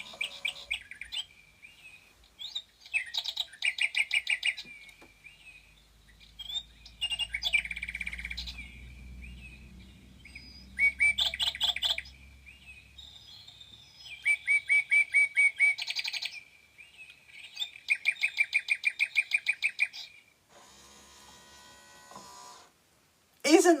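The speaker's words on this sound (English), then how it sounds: "Isn't that the best ever cuckoo clock?" A cuckoo clock sounds its bird song in a quiet room: bright, repeated chirping phrases in several bursts with short pauses, then a quicker rattling chime to close, with a faint low murmur partway through.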